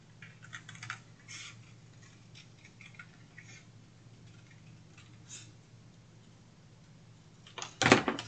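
Scissors snipping through a cardboard Christmas gift box along a circle shape, a run of small close crisp cuts with a louder rustling crunch near the end.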